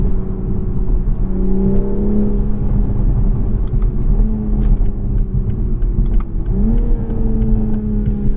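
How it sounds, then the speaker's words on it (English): A 2021 Toyota Supra's 3.0-litre twin-scroll turbocharged inline-six pulls hard through the gears of its ZF 8-speed. The loud engine note climbs steadily, drops briefly at each quick upshift, then rises again, heard close from inside the car. "This twin scroll turbo is so responsive."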